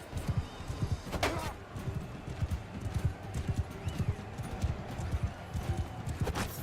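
Horse hooves clip-clop steadily in a Mount & Blade II Bannerlord battle, a fast irregular patter of close hoofbeats running throughout with faint combat clatter behind and no talk.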